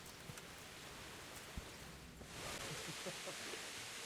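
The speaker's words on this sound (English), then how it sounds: "Is it even raining?" Rain falls in the medieval video game Kingdom Come Deliverance: a soft, steady hiss of rain that swells noticeably louder partway through, with faint scattered drops and no clear talk.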